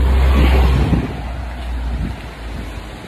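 Steady wind roars and buffets loudly on a mountain, a broad low rumble with gusty swells and no voices.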